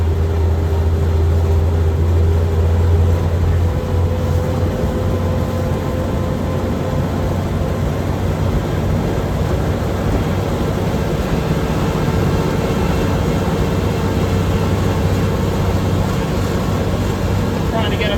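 A 1940s-era army truck engine, 81 years old, drones steadily while driving in 25-degree cold, a loud low rumble with constant road and wind noise throughout, no talking.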